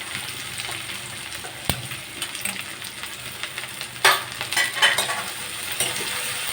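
Curry leaves, onions and green chillies fry in hot oil in a pan, with a continuous crackling sizzle broken by sharp spoon scrapes and stirring clatter that grow busier toward the end; no voices.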